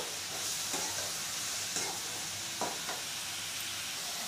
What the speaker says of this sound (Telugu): లైట్గా గోల్డెన్ కలర్లోకి వచ్చే వరకు ఫ్రై చేసుకోండి.